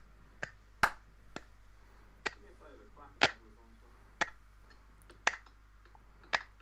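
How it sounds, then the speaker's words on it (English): Slow hand claps, about nine sharp separate smacks at an unhurried pace, close in front of the camera in a quiet room with a low steady hum beneath. "Nice and slow like that, in front of the camera."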